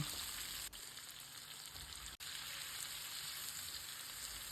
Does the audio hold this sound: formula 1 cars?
no